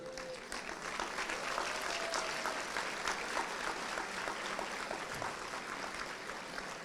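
Steady applause from a school-district awards audience honoring board members, a dense even patter of clapping that holds at a constant level throughout with a faint murmur of voices.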